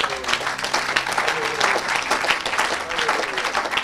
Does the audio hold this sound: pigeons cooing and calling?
no